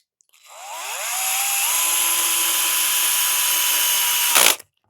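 A cordless electric screwdriver runs up to speed and whirs steadily for several seconds while driving a screw into a Reve-D RDX RC drift chassis, then stops abruptly. The sound is close and loud, with no voices.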